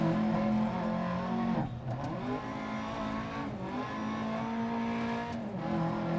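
Rally car engine in the video game DiRT Rally 2.0 on a New Zealand stage, revving hard and steadily near and loud, with a couple of quick gear-change dips in pitch; no voices.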